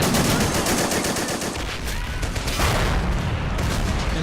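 Dense machine-gun fire and repeated explosive booms from mortars and small arms in the Men of War: Assault Squad 2 war game, a loud continuous battle din filling the whole stretch without talk.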